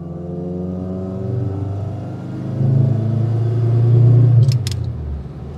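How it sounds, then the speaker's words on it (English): A Saab 96 with a V4 engine running while driving, a steady close engine drone that rises in pitch and loudness as it pulls, alone apart from a brief click near the end. "It's quite a pleasant sounding engine."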